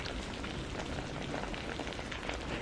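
Steady rain falling on a surface, a soft, dense patter of countless drops at low volume with no voices.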